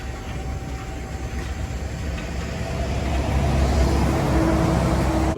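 A BMW E93 M3 exhaust fitted with an X-pipe and a Magnaflow muffler gives a deep, steady rumble that swells louder partway through, with no talking.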